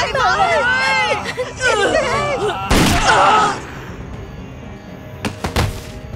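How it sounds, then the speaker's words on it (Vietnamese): Distant gunshots ring out, first as one sharp crack partway through and then as a quick pair of cracks near the end, mixed with voices talking. "Dạ là tiếng súng. Hình như là ở phía bên kia."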